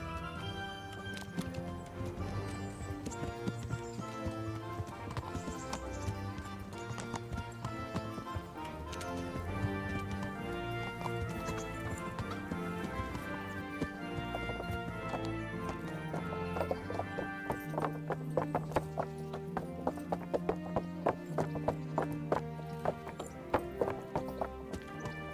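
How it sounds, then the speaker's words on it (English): Horse hooves clip-clopping at a galloping pace in the medieval game Kingdom Come: Deliverance, a steady rhythmic beat running under continuous music with an occasional neigh. "And now we start to gallop."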